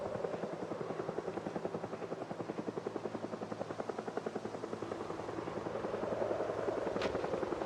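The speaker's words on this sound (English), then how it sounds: "And that's a helicopter." Helicopter from the zombie survival game Project Zomboid passing at a moderate distance, its rhythmic rotor thump steady and fairly quiet throughout, with no talk.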